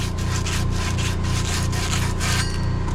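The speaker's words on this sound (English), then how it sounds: "Always sand down your fittings." Abrasive sanding of a plumbing fitting cut from a boiler-room check valve, a continuous rough rubbing scrape in quick back-and-forth strokes, close and loud with no talk.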